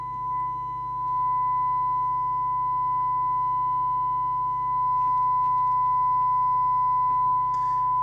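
A steady pure test tone from a signal generator, set to 100 microvolts, comes through the receiver of a Harvard CBM404 UK CB27/81 mobile radio, holding one unbroken pitch over a low hum with faint clicks and no talk.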